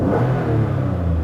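A 2010 Toyota RAV4 V6 engine revs loudly and continuously, a throaty mid-pitched roar held close up with no talking.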